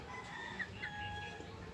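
Bantam chickens clucking and calling in a farmyard, with short chirpy calls rising over steady background noise at moderate distance.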